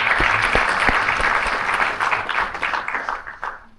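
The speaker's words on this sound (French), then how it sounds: "On peut l'applaudir." A seated audience at a presentation of a junior and national cycling team breaks into steady applause, dense and close, tapering off slightly toward the end.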